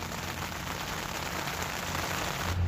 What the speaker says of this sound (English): and it's raining today